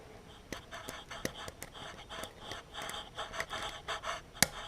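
Faint, close scratching and ticking as a pen is dragged across a partly ported transfer port on a Suzuki LT250R cylinder, with irregular rasps and a sharp click near the end, no voices.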